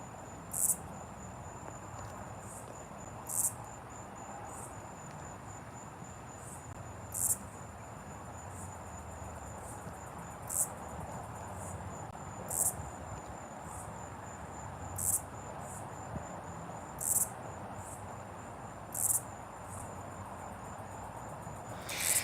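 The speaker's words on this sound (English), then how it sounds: "I hear the different cicadas and things like that" Insects chirping outdoors, likely cicadas or crickets: a steady high shrill drone with regular louder pulses every couple of seconds over faint low background noise, no talk.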